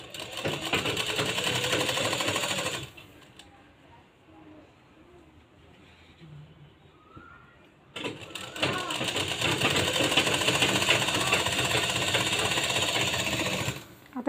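A sewing machine stitches a blouse neckline in two long loud runs of rapid mechanical chatter, separated by a quieter pause of several seconds, with talking heard alongside.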